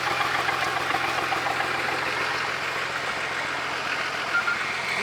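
A Lada Niva engine idles steadily before heading off-road into a forest, giving a loud, continuous, even rumble close by with a slight knocking texture and no voices over it.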